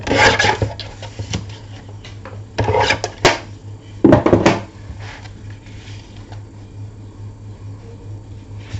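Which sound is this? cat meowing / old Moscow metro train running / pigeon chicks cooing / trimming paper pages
trimming paper pages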